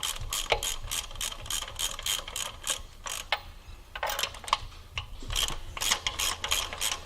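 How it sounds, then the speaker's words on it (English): A ratchet turning anti-clockwise to loosen spark plugs, crisp rapid clicking in repeated bursts with short pauses between strokes, close and clear. "So make sure you support the ratchet here and push, and hopefully it should come out quite easily."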